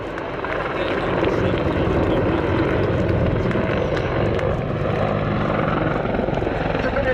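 An Attack Helicopter Display Team helicopter thunders over the Cosford Airshow, its rotor drone loud and sustained throughout.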